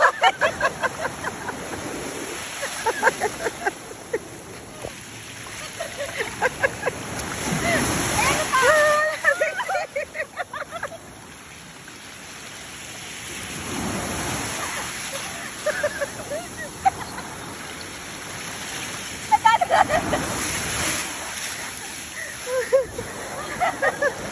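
Waves wash and splash along the shore at a beach resort in Bauan, Batangas, a steady surf rising and falling in broad swells. Several people talk and call out nearby over the water.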